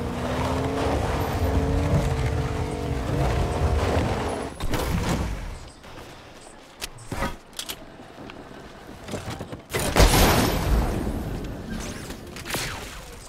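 Vehicle engine and driving sounds in the Fortnite video game, a steady loud rumble for about five seconds, then broken, intermittent noise with sharp bursts and another loud surge near ten seconds, with no talking.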